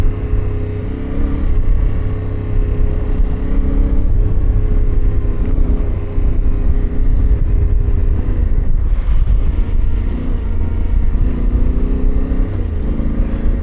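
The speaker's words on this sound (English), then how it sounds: "I'm just riding in second. You'll probably hear the RPMs pretty high." A Yamaha Tenere 700 motorcycle held in second gear at high RPM, its engine droning loud and steady with close, continuous rumble and small shifts in pitch throughout, with no voices.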